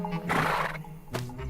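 A horse whinnies loudly and close by in a long, wavering neigh, then gives a brief snort, with no talk over it.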